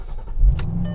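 A 2014 Ford Mustang Shelby GT500 with a 6-speed manual fires up in a brief, close burst, a low engine rumble swelling quickly with a sharp crank-like burst at the start.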